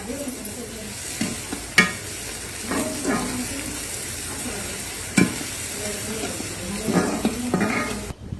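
Cumin and onions fry in oil for a tadka, a steady close sizzle broken by a few sharp clinks and scraping stirs of a spoon against the pan.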